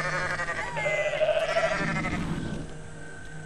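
A goat bleats in Goat Simulator, a clear wavering bleat of about a second, loud and close over ongoing game background noise.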